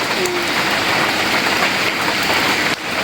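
Rain falls steadily with a dense, even hiss that lasts throughout. Near the end it drops slightly in loudness, and no one speaks.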